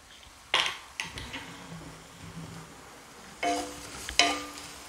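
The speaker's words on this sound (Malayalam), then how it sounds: "അപ്പോൾ ഇതെല്ലാം കൂടി ഒന്ന് വഴറ്റിയെടുക്കണം" Onion, curry leaves, chopped ginger, garlic and green chili sautéed in a pan for a potato curry, with a quiet background sizzle broken by several sharp utensil scrapes and clinks against the pan.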